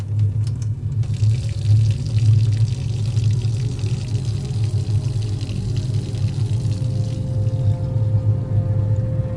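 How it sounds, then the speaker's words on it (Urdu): Water pours and splashes steadily in a washroom as an audio-drama sound effect, a continuous broadband rush with a low rumbling body and a faint tonal hum, holding at constant loudness throughout with no voices. "پانی گرنے کی آواز آنے لگی"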